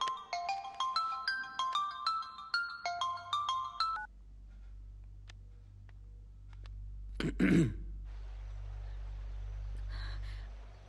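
A phone ringtone plays a bright, repeating melodic pattern for about four seconds at moderate volume, then cuts off, followed by a brief throat-clearing sound and a low background hum in a Hindi-dubbed action film scene.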